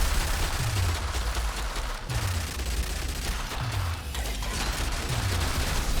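Two video-game turrets fire together in repeated bursts, each about a second apart, with a falling mechanical whine after every volley and a dense, steady clatter throughout, with no talk.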